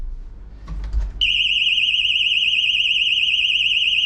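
After a brief rattle of a door being opened, a door and window alarm starts a loud, continuous warbling electronic tone that keeps going without a break, close by and alone.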